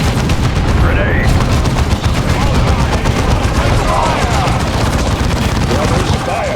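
Sustained battlefield gunfire from a Warhammer 40,000: Dawn of War II tactical squad, a dense loud rattle of rapid shots over rumbling booms, continuous through the whole stretch with some voices in the mix.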